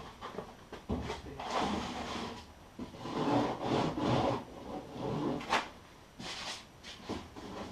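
A nail is dragged hard across a wooden workpiece to score a big mark, giving close, rough scraping rubs in several bursts separated by short pauses.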